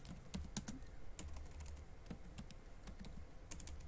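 Quiet, irregular clicks of typing on a computer keyboard, a run of separate keystrokes close by with small pauses between bursts, no talking.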